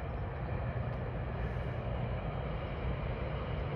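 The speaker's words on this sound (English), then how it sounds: "Oh, and I hear a GO train." A GO commuter train passes in Toronto near the Gardiner Expressway, heard as a steady, broad rumble that stays loud and even throughout, with no talking.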